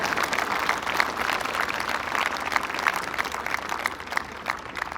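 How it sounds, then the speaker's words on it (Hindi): Sustained applause from a large audience at a school Republic Day celebration, dense steady clapping throughout without a break. "जोरदार तालियां उन बच्चों के लिए"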